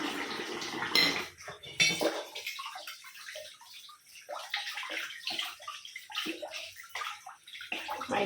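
A small metal drinking-water pot, blackened after a day's use, is scrubbed and rinsed by hand, with metallic clanks and scraping over running and splashing water, close and steady with no talk.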